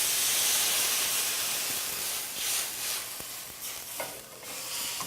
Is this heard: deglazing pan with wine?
yes